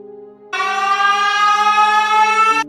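A loud, sustained siren blast from the two opposite-facing sirens mounted on the creature called Siren Head, starting abruptly, holding a steady harmonic drone for about two seconds, then cutting off over a quieter hum.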